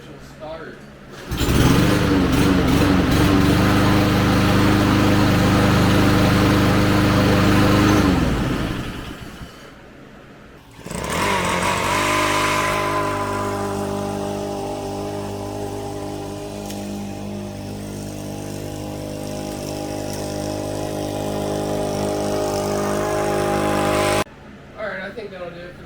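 A Cub Cadet SC 500z zero-turn mower engine cranks, catches and roars loudly for several seconds, cuts out, then restarts and runs steadily at close range for over ten seconds before shutting off.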